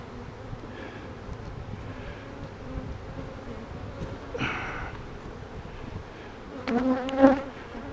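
Honey bees buzz around hive frames while a nuc is installed, a soft, continuous drone close to the microphone with a few louder individual passes and some wind noise.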